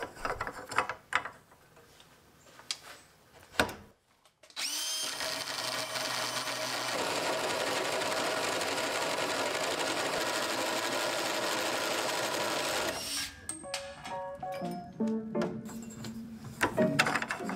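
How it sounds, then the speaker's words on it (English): A Harbor Freight tubing notcher bites into steel tube for Land Rover rock sliders, giving a steady, loud grinding whir for about nine seconds, with scattered clanks and shop handling before and after. "I'll use another cheap tool for the first time, the Harbor Freight tubing notcher."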